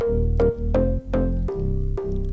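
A thick, layered synth bass including a Korg M1 house bass plays a rhythmic pattern with deep low end and a bright upper layer, notes landing roughly every half second, loud and upfront.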